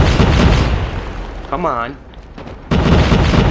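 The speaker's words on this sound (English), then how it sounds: "Let's do a little bit of bombing ourselves." Bombs go off in the online shooter CrossFire as loud, broad rumbling blasts at the start and again near the end, with a player talking briefly in between.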